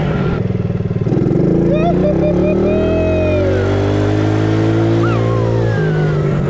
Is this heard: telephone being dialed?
no